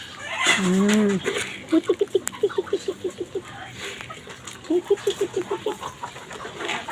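Chickens cluck in a series of short, rhythmic bursts close by, with a longer call at the start and a second run of clucks later.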